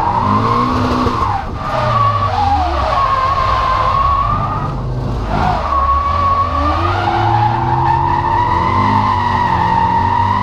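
Toyota GT86 drifting on a drying track at Snetterton with a sketchy alignment, tyres skidding and squealing continuously over a loud, steady engine note, with short dips and brief lifts before the screech resumes.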